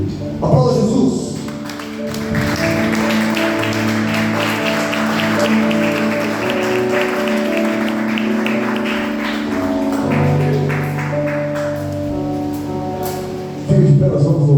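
A church congregation claps along as sustained keyboard chords play, the broadband applause swelling in the middle and fading near the end. A voice is heard over the music at the start and end.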